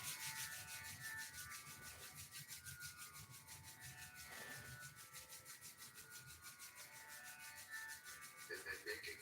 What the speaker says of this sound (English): Rub the palms briskly.